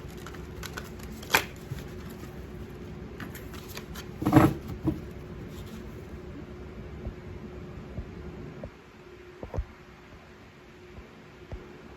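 Tarot cards riffled and shuffled by hand with soft papery flutters and a sharper burst in the middle, faint background hum, no voices.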